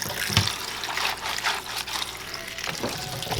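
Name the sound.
washing vegetables under running tap water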